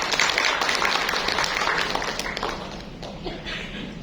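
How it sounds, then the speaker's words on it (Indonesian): An audience at a parenting seminar bursts into dense, sustained applause, fairly close and loud, tapering off slightly over a few seconds. "Ya tepuk tangan kita semua"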